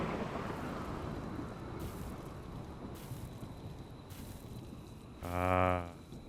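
A rainy thunderstorm from the video game Rimworld. Steady rain hisses beneath a low, distant rumble of thunder, and a short, loud tonal call briefly rises near the end. No one speaks.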